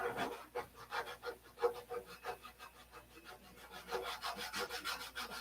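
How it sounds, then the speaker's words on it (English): Sandpaper rubs back and forth over a painted surface, making a steady, rhythmic scratchy rasp with even strokes, close and moderately loud, alone without talk. "Rub this sandpaper on it."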